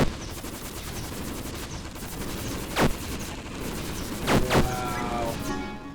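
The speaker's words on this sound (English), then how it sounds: "Step into my machine gun." Rapid machine gun fire from the video game Approaching Infinity Survivors, a dense steady rattle of shots running continuously at moderate level, with a couple of sharper bursts standing out near the end.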